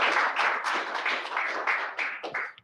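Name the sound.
audience applause for a speaker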